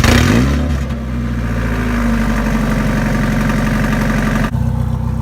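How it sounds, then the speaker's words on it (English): A Mazda Miata with a newly fitted loud exhaust revs and idles close by, a loud, continuous, rumbling engine note with a sharp drop in revs near the end. "I don't get pulled over because this car is too loud"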